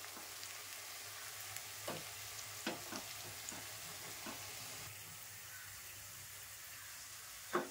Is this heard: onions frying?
yes